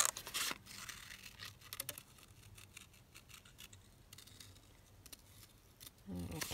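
Scissors cut an oval shape out of a printed photo for a craft project, a run of close, quiet snips and paper rustles between louder handling noises at the start and end.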